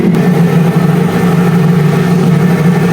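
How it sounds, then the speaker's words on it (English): A Lamborghini Revuelto V12 engine idles loudly and steadily up close on a cold start, a deep continuous rumble with a fairly even, unchanging tone and no voices. "This is the sound of the V12 on a cold start."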